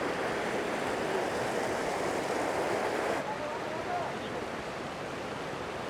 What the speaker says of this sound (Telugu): ఇక్కడ చిన్న వాటర్ స్ట్రీమ్ అయితే ఉంది,